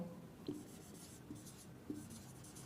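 Faint scratchy strokes of writing a sentence on a classroom board, a few soft scrapes and taps at close range over a hissy room background, with no talk.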